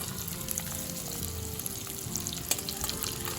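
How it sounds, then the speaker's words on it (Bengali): Eggs frying in a pan, a dense, steady sizzle and hiss filling the whole clip, with a faint clink partway through. "আমি ডিমগুলো দুবারে ভাজবো"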